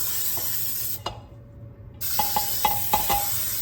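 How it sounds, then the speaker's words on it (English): Cooking spray hisses from an aerosol can onto the sides and middle of a cake pan in close, steady bursts. A long spray comes first, then a brief pause, then several shorter spurts. "See how I'm spraying up the sides?"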